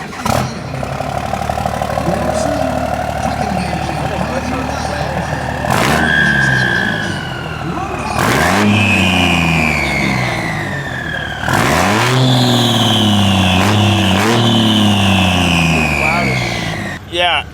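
A lifted truck with a 1000-horsepower engine and an 11-blade turbo revs hard in repeated rising and falling pulls, each climbing to a loud whining peak, while people talk over the engine.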